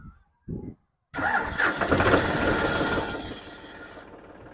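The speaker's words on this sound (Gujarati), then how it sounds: "આ ટ્રેક્ટરનો સાઉન્ડ તમને સાંભળવા મળી રહ્યો છે" A starter whirs briefly in short bursts, then a Digitrac PP 43i E1 tractor's diesel engine catches with a loud roar and settles into a steady idle.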